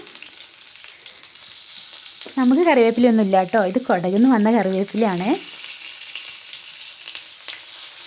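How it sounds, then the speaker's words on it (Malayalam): Fish fry in hot oil in a pan with curry leaves from Coorg, a constant crackling sizzle close by that continues steadily while someone talks briefly over it. "ഇനി മീൻ വറുത്തെടുക്കാവേ"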